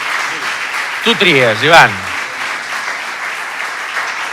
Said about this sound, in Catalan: aplaudiment per l'Ivan